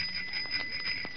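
A tricycle bell rings continuously in a bright, sustained metallic tone with a steady shimmer, loud and close, with no voices over it.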